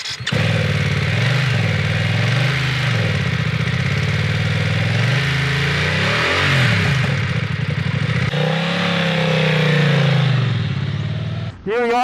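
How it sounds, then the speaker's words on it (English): A BMW F 900 R motorcycle engine runs steadily nearby, a loud, continuous mid-pitched drone with shifting tone as it idles and is revved, briefly dipping before the end. "fire up the engine"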